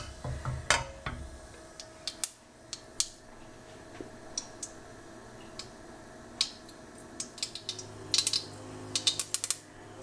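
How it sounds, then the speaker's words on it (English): Sharp, irregular little pops and crackles of mustard seeds in hot oil spatter over a low background hum, scattered at first, then bunching into quick bursts. "when I throw the mustard seeds in, they'll pop quickly"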